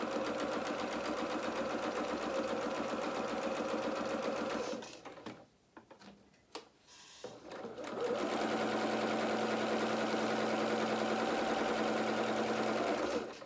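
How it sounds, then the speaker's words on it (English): A sewing machine stitches a dress bodice band seam with a steady, loud mechanical whir, pauses briefly midway with a few handling noises, then resumes at an even pace. "I'm just going to sew the whole length of this"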